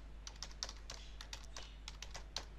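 Quick, light keystrokes on a computer keyboard, a run of soft, irregular clicks heard close up with no talking.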